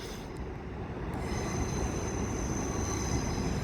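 Lumo train in Pride livery passing through Manors Station, a rumbling rush of wheels on rail with a thin high squeal, building slightly and staying loud, no voices.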